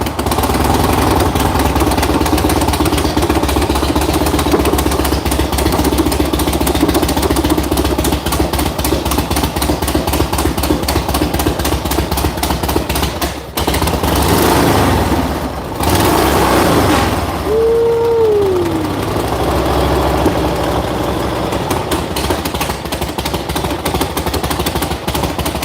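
A 1936 Harley-Davidson Knucklehead motorcycle with extra cubic inches, a big cam, a period aftermarket carburetor and flamed pipe idles loud and close with a loping, uneven beat. The beat holds steady for the whole stretch, apart from a brief dip near the end.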